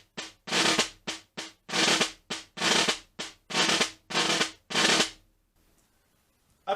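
Snare drum etude with short buzz rolls played all right-hand lead, heard as a run of close, loud bursts of rolls and strokes in a steady rhythm, ending in a pause.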